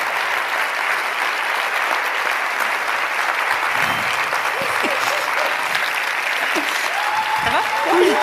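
Sustained applause from an audience welcoming a guest onto a stage at a talk on workplace inclusion, steady and dense throughout with a faint voice or two beneath.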